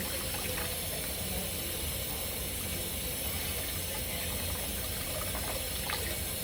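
Water runs steadily from a tap into a sink while hands are rinsed, a constant soft rushing hiss with no pauses and no voices.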